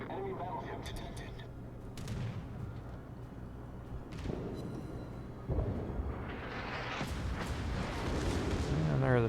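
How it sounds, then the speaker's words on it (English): The battleship Izumo fires its main guns in World of Warships, heard as several deep booms and thuds under steady ambient game noise, with some talk present. "And there are the shots from the Izumo."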